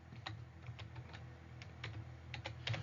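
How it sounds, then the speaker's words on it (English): Typing on a computer keyboard while entering a date into an Excel spreadsheet, a quiet run of irregular, close key clicks with short pauses between bursts and no talk. "Now I'm going to try typing in"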